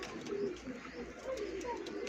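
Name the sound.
pigeon cooing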